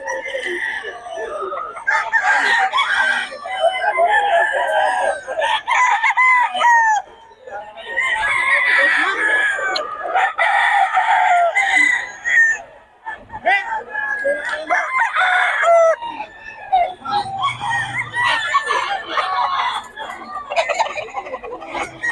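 Several roosters brought by a seller crow again and again, loud and close, in long rising calls with some clucking between them and someone talking in the background.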